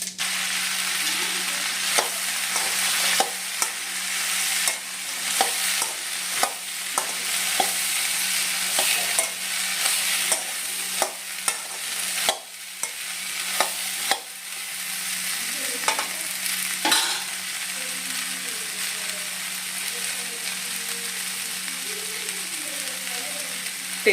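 Cumin and mustard seeds with vegetables stir-fried in a pan, a continuous sizzle broken by repeated sharp clacks of a spoon stirring and scraping against the pan, close and fairly loud.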